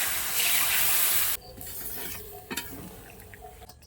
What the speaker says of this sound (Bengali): ফুটিয়ে রাখা দুধটা দিয়ে দেবো